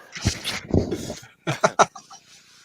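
A bulldog and Boston Terrier mix puppy gives soft whimpers and short yips in a few close, uneven bursts, with a brief pause before a quick run of higher squeaks.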